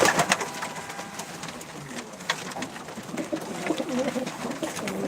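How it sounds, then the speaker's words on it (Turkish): Pigeons coo softly in low, repeated murmurs amid scattered bird chirps and light rustling, fairly close. "Çok kuş var."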